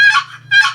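Two drawn-out, raspy yelps from a turkey call imitating a gobbler, slower and with fewer repetitions than a hen, loud and close over a low steady hum.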